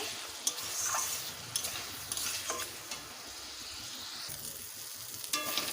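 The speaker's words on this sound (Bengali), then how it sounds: "দিয়ে দেবো গোবিন্দভোগ চাল ভালোভাবে কষে নেব" Gobindobhog rice being stir-fried in a pan for a vegetarian banana-flower dish, a soft steady sizzle with occasional scraping taps of a spatula, close and alone without voices.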